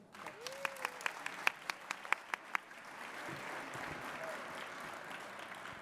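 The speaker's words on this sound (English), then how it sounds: "Let's give a round of applause to Julia Gouw again" At an awards ceremony, an audience applauds with a spread of many hands, first as scattered distinct claps and then as a steady, fairly faint wash of clapping, heard alone without talk.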